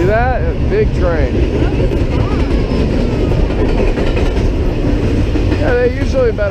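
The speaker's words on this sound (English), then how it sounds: "See that? A big train." A big freight train of roughly 140 to 160 cars rolls past at a railroad days event, a loud, continuous rumble with clickety-clack of wheels and squealing rail tones, people talking faintly underneath.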